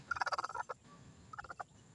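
A native local chicken on a farm gives a rapid burst of throaty clucks, a short pause, then another quick series, close and faint with no talk.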